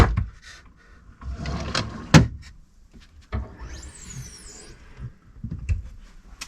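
Cutlery drawer in the galley of a 2005 Princess V42 motor boat, sliding and knocking in a few short wooden clunks and rattles, close and fairly quiet, with gaps between the movements.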